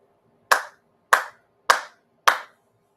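Four sharp ritual hand claps at a Shinto service, evenly spaced about half a second apart, each crisp and close with a short decay, heard alone in a quiet room.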